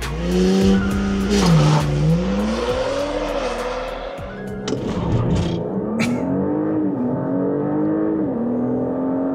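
Audi S5 with a 3-litre V6 TFSI engine accelerating hard, its loud engine note rising through the gears with brief drops at each shift and a short tire squeal, no voices.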